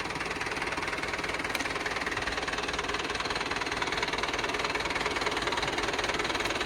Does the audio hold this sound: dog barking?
no